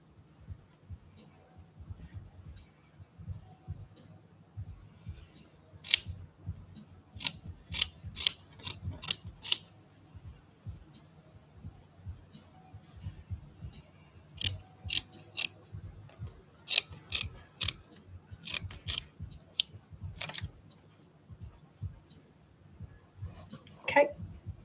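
Scissors snip through leopard gecko skin during taxidermy trimming, with crisp cuts coming in irregular bursts against a faint, low background hum.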